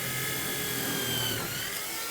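A power tool cuts stainless steel with a loud, steady, high-pitched whine and grinding hiss that holds continuously, with no speech over it.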